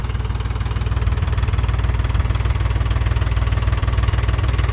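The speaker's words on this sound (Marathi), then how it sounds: "तेवढ्यात आमचे हे आलेले होते ट्रॅक्टर घेऊन" A tractor engine idling on a village farm, a steady low rhythmic chug and rumble running continuously and fairly close, with no voices.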